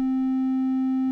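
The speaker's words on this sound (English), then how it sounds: "triangle wave" A synthesizer oscillator holds a steady triangle-wave tone, a soft, mellow pitch that stays flat and unbroken for just over a second and then stops abruptly, alone and fairly loud.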